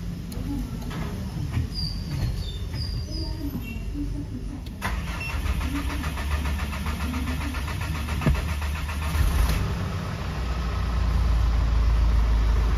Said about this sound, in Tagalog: Ganda ng tining oh. Yun, tining ng andar.